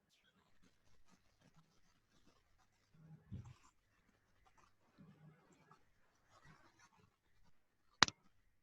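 A dog pants in a webinar participant's room, soft, quiet breathy bursts coming and going through a hushed remote meeting, followed by one sharp loud click near the end.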